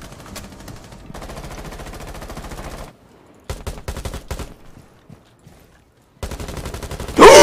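Gunfire in Rainbow Six Siege: loud, rapid automatic bursts in several long strings separated by brief quiet gaps, with a heavy final blast at the end.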